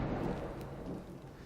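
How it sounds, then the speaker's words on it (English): Thunder from a full lightning storm outside in the Tampa Bay area, a low sustained rumble with steady rain-like wash, heard from indoors at moderate distance with no talking. "You can hear there's a full-fledged lightning storm outside."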